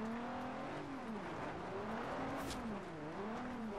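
A car drifts in the Forza Horizon 2 racing game: a continuous wavering tire squeal rising and falling over engine roar, moderately loud with no talk.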